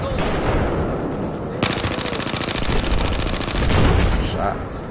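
Rapid machine-gun bursts and sustained automatic fire from the video game Battlefield 4, loud and close, rattling continuously through most of the stretch with no talk over it.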